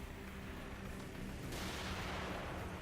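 A grenade blows up in the horror video game The Evil Within, a dense, loud rumbling blast that swells and carries on as a broad roar.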